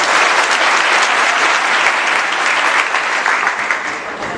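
Dense, loud applause from an audience at a school speech contest, a continuous wash of clapping that holds steady and thins slightly at the end.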